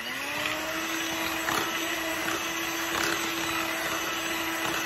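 An electric mixer beats egg, vanilla essence and sugar in a bowl, giving a steady, loud whirring motor hum with a constant tone and slight rhythmic variation, with no talking.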